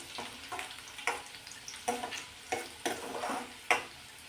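Garlic sautéing in oil until it turns reddish, heard as a soft sizzle broken by about eight rhythmic stirring scrapes and taps, fairly quiet and close.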